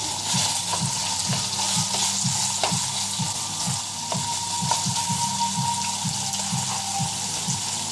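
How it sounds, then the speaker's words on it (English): Oil sizzles and crackles steadily in a hot pan for cooking seafood, with a constant bright hiss and small pops throughout, close up and fairly loud. "Sizzling the oil rather nicely down here."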